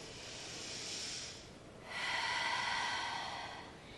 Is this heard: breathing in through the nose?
yes